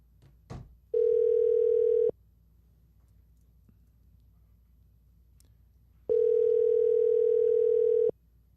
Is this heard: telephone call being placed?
yes